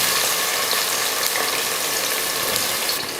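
Lengthwise-sliced onions fry in a pressure cooker while mutton biryani is being prepared, giving a loud dense crackling sizzle that stays constant and close throughout.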